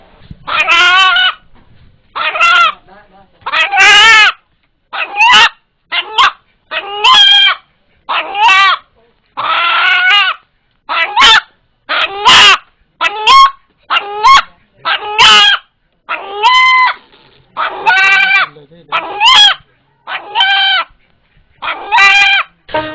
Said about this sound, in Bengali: ভয় পেলে মোরগটি যেভাবে ডেকে ওঠে সেটাকে আল্লাহ আল্লাহ শব্দের সাথে